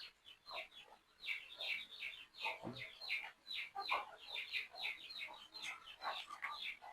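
An Aseel hen settled on her eggs to brood clucks close by in a steady series of short, repeated calls mixed with higher chirps, continuing throughout.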